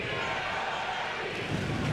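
A boxing arena crowd at the Roberto Clemente Coliseum roars for national hero Kiria Tapia against Marianela Soledad Ramirez: a dense, steady wash of cheering that swells slightly toward the end.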